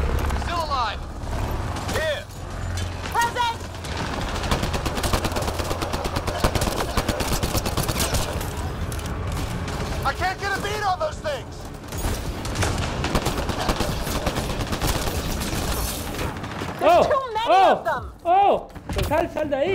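Gunfire in the Mass Effect Andromeda video game, dense bursts of shots and mechanical clatter running throughout under frequent overlapping shouted voices.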